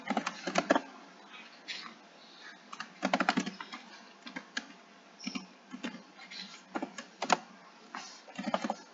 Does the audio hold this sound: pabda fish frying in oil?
no